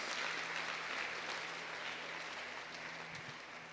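A church congregation applauds in praise of God. The clapping is soft, steady and continuous, sounds fairly distant in a large room, and fades slightly toward the end with no speech over it.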